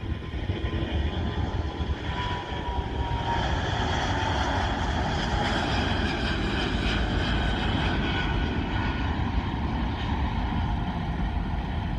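British Airways jet airliner passing overhead, a continuous broad roar holding steady and distant-to-moderate in level for the whole stretch, with no voices.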